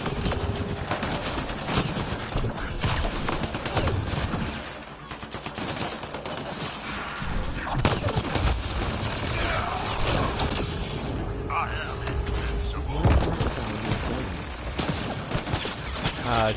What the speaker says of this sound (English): I couldn't hear that one. Over all the gunfire